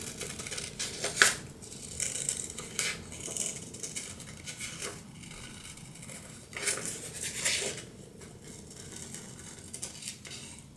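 Scissors snip in short, soft, irregular cuts as they trim around a photographic card motif for cardmaking, quiet and close with no talking.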